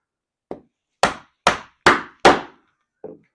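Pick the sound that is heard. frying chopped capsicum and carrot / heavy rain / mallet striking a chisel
mallet striking a chisel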